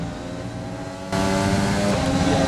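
An F1 race car in the F1 2020 video game accelerates hard, its high-pitched engine whine rising and jumping sharply louder as the throttle opens fully.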